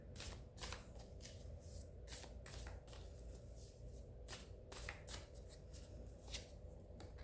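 A deck of tarot cards shuffled by hand, crisp repeated riffling bursts at an uneven rhythm, close and fairly quiet, with no talking.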